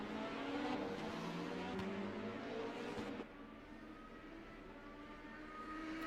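Hypercar engines circling a track in a sim racing game, a steady loud drone of motors with shifting pitch, easing slightly quieter partway through.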